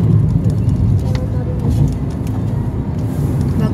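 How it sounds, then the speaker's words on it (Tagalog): A car rolls past on a road at night, a broad, steady rushing and engine rumble that holds loud throughout while people talk nearby. "Ay, kotse yan."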